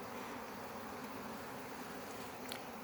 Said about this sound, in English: These are quite dark bees.